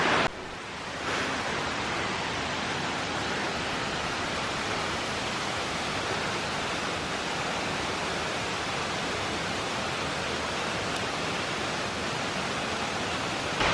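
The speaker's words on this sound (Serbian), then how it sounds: "tu je još malo vodopada." A mountain waterfall on Stara Planina pours in a dense, steady roar of rushing water that stays loud and close throughout, with no voices.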